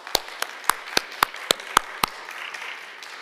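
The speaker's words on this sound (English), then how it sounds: "So let's give John a round of applause." A small audience at a church synod meeting gives sparse, scattered applause, a handful of distinct claps spaced unevenly, fairly close and moderately loud, fading out after about two seconds.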